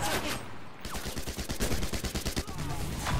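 A player's gun fires in a video game, a rapid string of sharp repeated shots at close range over constant game background noise.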